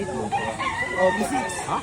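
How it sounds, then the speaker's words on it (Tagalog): A rooster crows nearby, its drawn-out call rising and falling, with other chickens clucking and a person talking faintly in the background. "Ay, magaganda itong manok."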